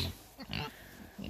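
A pig on a farm gives a couple of short, close grunts in quick succession, brief snorting bursts separated by quiet.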